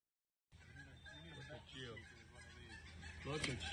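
A bird calls on a played wildlife clip, repeated honking, goose-like cries at moderate distance, mixed with people talking.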